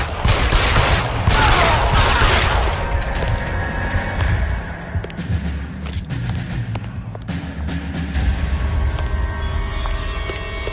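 A gunfight in the video game L.A. Noire, with dense bursts of rapid gunfire and cracks, loudest at first and then fading into scattered shots and rumble.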